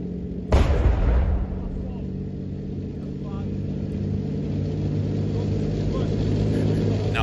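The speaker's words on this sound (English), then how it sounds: "Just listen to the engine." A Challenger 2 tank rolls across a field at full revs, its deep engine drone and clanking running steadily after a sharp loud thump at the start, with faint voices in the background.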